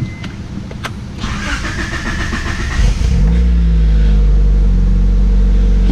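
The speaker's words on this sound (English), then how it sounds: "let's see if this junk cranks." An LS V8 engine on a dyno cranks with a whirring starter for a couple of seconds, then fires and settles into a loud, steady, rumbling idle.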